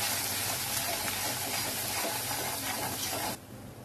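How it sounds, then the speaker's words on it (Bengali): Cumin and coriander spices fry in hot oil with a steady, broad sizzling hiss that holds evenly and then drops abruptly to a softer simmer near the end. "একটু জিরা, একটু ধনে। মশলাটাকে কষাবো।"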